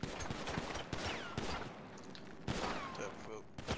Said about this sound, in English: Drop the gun, shots fired.